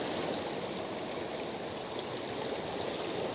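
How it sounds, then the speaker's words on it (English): Water rushes in steadily at an outdoor landscape photography spot, a dense even hiss of flowing water heard alone at moderate distance for the whole stretch without pauses. "Oh, you can see that water's coming in."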